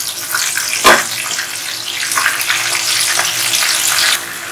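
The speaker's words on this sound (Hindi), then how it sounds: "तेल गर्म होने के बाद आप इसकी गैस एकदम धीमी कर दीजिए और इसके अंदर कॉर्न के दाने डालना शुरू कर दीजिए" Sweet corn kernels frying in hot oil sizzle and crackle loudly and continuously, with a sharp burst near the start as kernels hit the pan and are spread.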